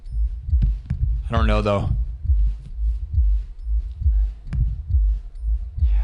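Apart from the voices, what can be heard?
heartbeat sound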